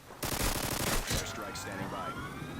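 Rapid automatic gunfire from Call of Duty on the Skidrow map, sounding as a dense burst of shots that eases into continuous in-game combat noise and faint whining tones.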